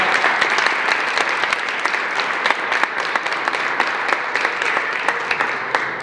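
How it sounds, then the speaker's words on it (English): A room full of people applauds guests on a podcast set, a steady dense wash of clapping with a few sharper individual claps standing out, continuous throughout with no talking. "Show a round of applause for our guests"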